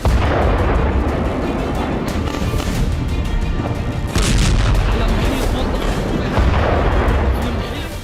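Heavy booming blasts from bombing near a hospital in Gaza roll in one after another, loud and rumbling, with bursts of crackling debris over a constant low roar.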